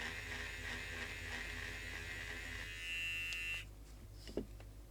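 An electric stitch eraser buzzes steadily as it runs lightly over embroidery to unpick the stitches, a close, high-pitched motor whine that cuts out near the end, followed by a few small handling clicks.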